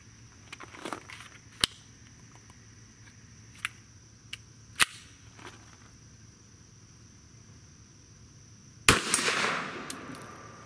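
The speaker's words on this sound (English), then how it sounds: "let's see if I can hit it with this Keltec PMR30" A Keltec PMR30 pistol fires a single CCI Maxi Mag 40-grain .22 Magnum round outdoors, one sharp loud crack with a ringing decay, preceded by a few quiet clicks and handling noises.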